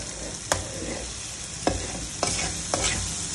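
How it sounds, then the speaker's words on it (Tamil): Egg frying in a pan for fish semiya, a constant hissing sizzle with several sharp scrapes of a spatula stirring it, close and moderate in volume. "கொஞ்சம் கொஞ்சமாக முட்டையை வேக விட்டு நீங்கள் கிண்டிங்கன்னா இந்த மாதிரி உங்களுக்கு கிடைக்கும்"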